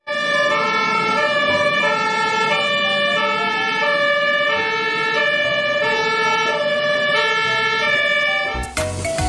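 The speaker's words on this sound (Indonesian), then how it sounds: "selanjutnya ada truk pemadam kebakaran" A loud two-tone fire truck siren wails steadily with stacked harmonic tones, alternating pitch in a regular cycle, cutting off abruptly near the end with a burst of noise.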